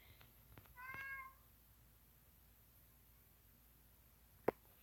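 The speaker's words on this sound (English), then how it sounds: "Stupid cats at my door." A house cat meows once at a door, a short harmonic call standing alone in a quiet room, followed later by a single sharp click.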